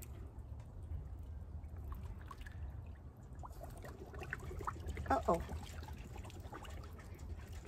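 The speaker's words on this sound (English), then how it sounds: "Oh, I need to add more water." Water poured into a pot holding a water lotus, a steady low trickle and splash that runs throughout, with a brief louder gurgle near the end.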